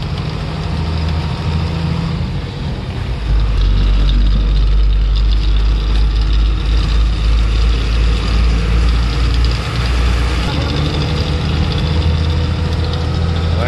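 Laden vehicle engine labouring up a hill on a narrow single-lane road: a loud, heavy low rumble that deepens and strains after a few seconds, then holds steady, continuous with no voices.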